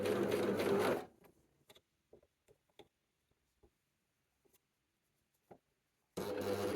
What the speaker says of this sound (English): And as you stitch, you pull the ribbing, you stretch it to meet up with the length